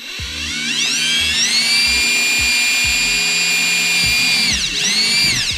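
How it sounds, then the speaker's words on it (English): A DeWalt cordless drill with a 9/64 bit bores through a metal pedal on a BMW E90, a loud steady whine that rises in pitch as it spins up, holds, and dips briefly near the end before rising again. "I'm using a 964 bit in my DeWalt drill. So go ahead and drill this through."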